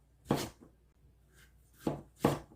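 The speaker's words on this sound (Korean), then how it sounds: "이렇게 1cm 두께 정도로 썰어서 쪄보겠습니다" A knife slices a pumpkin into 1 cm thick pieces on a board, giving three soft, separate chopping thuds in a quiet kitchen with no voices.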